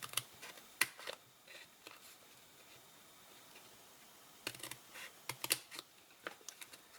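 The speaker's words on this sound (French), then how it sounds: "Donc nous allons simplement couper avec notre paire de ciseaux en suivant" A pair of scissors cuts paper along a fold in short bursts of crisp, close snips and crunches, separated by a quiet pause, faint and without talk.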